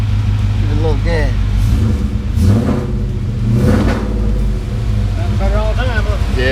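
A car with a swapped Ford Coyote engine runs at its first start. A loud, low rumbling idle rises with brief revs, while people talk over the engine noise.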